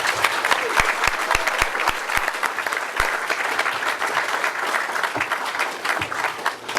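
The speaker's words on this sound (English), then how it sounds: "So please give him a round of applause." An audience at the 2007 New Zealand open source awards applauds a contributor award nominee, a dense, sustained round of clapping from a sizeable crowd with a few sharp, close claps standing out near the start.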